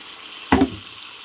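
Water poured into spicy katla fish curry masala frying in a pan sets off one short, sharp burst of hissing sizzle. A faint background hum comes before and after it.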